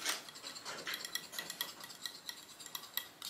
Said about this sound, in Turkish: Küçük çırpıcıyla güzelce çırpalım.